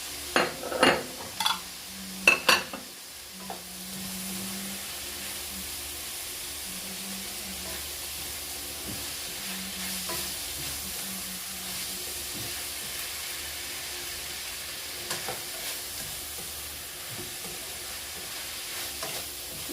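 Pulled celery tossed into a hot pan for fried fish with garnish, a few clattering stirs up front, then a steady close sizzle and hiss that continues alone with occasional utensil taps.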